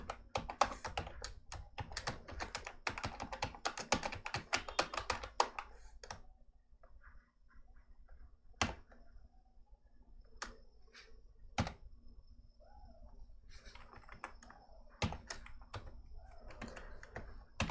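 Clicking keys on a computer keyboard while Java code is typed: a quick burst of dense keystrokes, then scattered single taps and short runs after a brief lull, close and fairly quiet.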